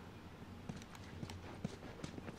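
Horse hooves clip-clopping in The Last of Us, a faint, even run of soft hoofbeats under low background game ambience.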